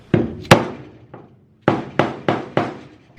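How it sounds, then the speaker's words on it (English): A metal chisel is struck against a rusty car body panel in a series of sharp, separate knocks, about seven hits with irregular gaps and close, dry impacts. "I've got a chisel and I'm just going to kind of chisel a square out"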